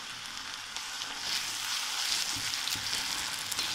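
Gobhi manchurian with flour batter stirred and frying in a pan, a steady, dense sizzle throughout with light stirring scrapes, close and moderately loud, no voices.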